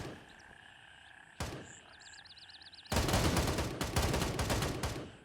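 Gunfire in GrayZone Warfare: a single sharp shot, a quiet pause, then a rapid burst of repeated automatic shots, fairly close and loud against faint background ambience.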